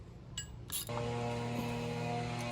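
Lower shock bolt on a Honda S2000 coilover tightened with a wrench: a few quick metallic clicks, then a steady mechanical ratcheting hum, close up and without talk.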